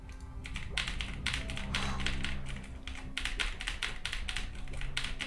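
Rapid clicky keystrokes on a Razer BlackWidow Tournament Edition 2014 mechanical keyboard come in bursts of quick taps with brief pauses, close-up over a low background hum.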